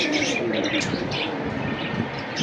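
Indian Kaldom pigeons coo and chirp close by, with soft calls repeating over a steady background hum.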